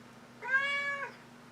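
A single cat meows once, clear and fairly close, a drawn-out rising-and-falling call over a low steady hum.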